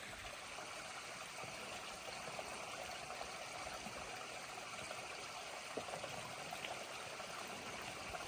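Shallow, low stream flowing over rocks in the Joyce Kilmer Slickrock Wilderness: a steady, soft broadband rush and trickle, continuous and unbroken, with no voices.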